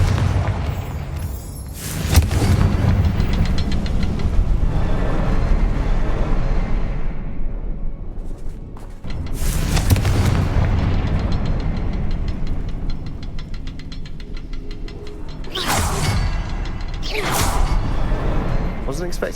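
The Confringo explosive spell in Hogwarts Legacy goes off as a series of loud booming blasts with whooshing bursts, several explosions spaced across the stretch over a rumbling game soundscape, with a voice calling out at the start.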